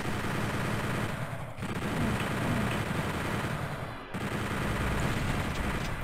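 Sustained rapid gunfire from the Doom 64 video game, a dense continuous rattle of automatic shots, loud and close with brief dips around the second and fourth seconds, and no talk over it.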